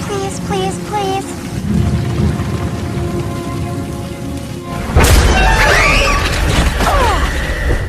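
Heavy rain pours in a dramatic film scene, a dense steady hiss and patter that swells louder midway with a sudden heavy wash, while tonal music and sound effects play over it; no talking.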